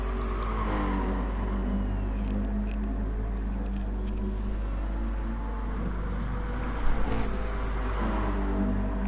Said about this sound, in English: I'm going to quickly see what kind of speed they can get up to on the straight in this Mercedes